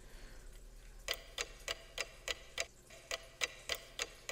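Steady, crisp ticking of a large clock in the video game Umineko When They Cry, about three sharp ticks per second, heard alone and close over a quiet background hum.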